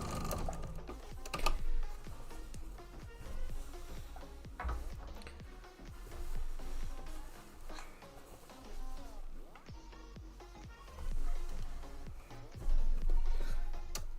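A sewing machine stitching a maple leaf table runner, with rapid mechanical ticking in uneven bursts that swell and ease as the pace changes, under a faint background.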